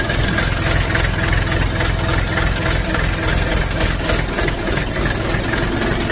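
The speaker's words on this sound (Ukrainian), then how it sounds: "Ви послухайте цей двигун" A YUTA 244SX mini tractor's small diesel engine idles steadily and close by, a continuous knocking rumble with no pauses.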